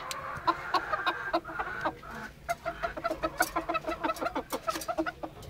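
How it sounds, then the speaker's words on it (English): Black Cochin bantam hens and roosters cluck close by in a cage, with a quick run of choppy, repeated clucks and calls, loud and clear with no talking. "In a cage, there is a black bantam, black cochin bantam."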